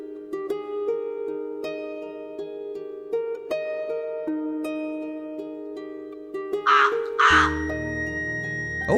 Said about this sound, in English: Oh, that's a crow.